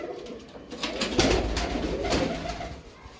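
Pigeons, a black male and a white female, coo softly nearby in a series of low, throaty, rolling calls over a faint background.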